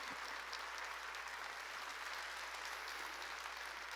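A church congregation claps together during a Korean worship sermon, a steady, even wash of applause heard faintly from a distance, with no talking over it.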